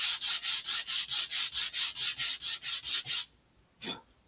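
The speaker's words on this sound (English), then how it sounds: "These will be easy enough to sand off this way just by lining them up" Rapid, rhythmic back-and-forth sandpaper strokes on model rocket parts, about a dozen in a row, loud and close, then a pause and one short final rub.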